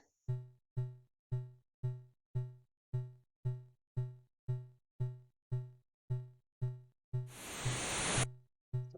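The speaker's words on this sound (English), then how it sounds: "It's a grill being removed." A metallic grating scrapes loudly for about a second as a grill is removed in the Commodore 64 game The Empire Strikes Back, over a steady, muffled heartbeat thumping at a regular pace throughout.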